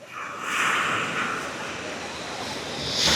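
Sea waves wash steadily onto Tala Youssef beach in Al Hoceima, Morocco, a continuous broad surf roar with wind buffeting the microphone and a swell of louder surf near the end.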